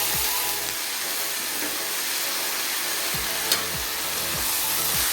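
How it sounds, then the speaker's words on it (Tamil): Tomatoes sautéing with onions in a pan for banana stem chutney, a steady sizzle and fry hiss with several brief scraping strokes of a spoon against the pan, close and continuous with no voices. "பார்த்தீங்கன்னா தக்காளி வதங்கி வருது"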